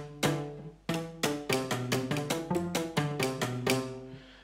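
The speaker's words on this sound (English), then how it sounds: "and that sounds like this with the Bartok patch." Bartok pizzicato strings from a sample library, mixed microphones, play a quick run of about a dozen snapping plucked notes with resonant ringing tails, moderately loud and alone.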